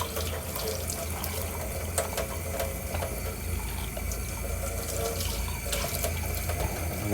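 Warm tap water runs steadily into a sink while a ceramic cup is washed, with an even rushing flow and occasional light clinks and splashes, no voices.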